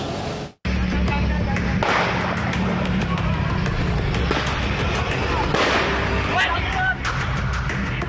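Loud firecrackers popping in rapid bursts outdoors during a street firecracker fight in Bekasi, West Java, over a constant rumble of traffic and crowd noise, with scattered sharp cracks throughout.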